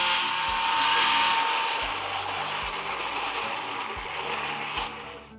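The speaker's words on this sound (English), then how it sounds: "But for now, let's grind this." A blender grinding cooked red kidney beans for rajma soup, a loud continuous whirring roar with pulsing low-end surges as the motor churns, close up and alone with no talk.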